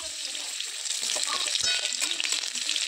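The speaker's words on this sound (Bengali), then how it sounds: "শাকটা ফোড়নে দিয়ে দেবো 2টো কাঁচা লঙ্কা।" Green chillies and leafy greens go into hot oil with spices for tempering, giving a steady close crackling sizzle with a few clattering stirs.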